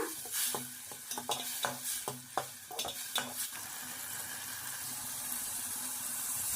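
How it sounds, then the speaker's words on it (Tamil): Tomatoes sauté in a pan for a fish curry, with a string of close scraping stir strokes in an uneven rhythm over a soft sizzle that carries on alone once the stirring stops. "சேர்த்துட்டு இப்போ தக்காளியும் நல்லா வதக்கி விட்டுக்கலாம்"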